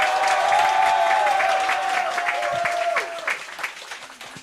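Audience applause fills a political party youth committee launch event in Korea, a dense steady wash of clapping that holds strong and then thins out toward the end, with a held tone and some voices underneath.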